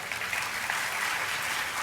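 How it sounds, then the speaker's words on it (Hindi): Sustained, dense applause from an audience at a 2019 freshers' welcome celebration at Dev Sanskriti Vishwavidyalaya, greeting the Pragya dance group, steady and fairly loud throughout with no pauses. "आपकी जोरदार तालियों के बीच बुलाते हैं प्रज्ञा नृत्य समूह"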